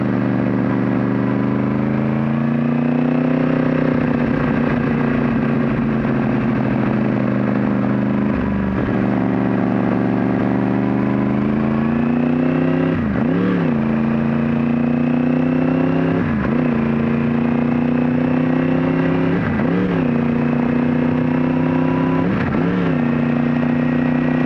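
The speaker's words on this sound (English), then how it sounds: "I love the sound of my own exhaust for some reason." A motorcycle's exhaust rumbles steadily and close while riding on a cold, chilly day, with several sharp rising revs and throttle blips breaking through the continuous engine drone.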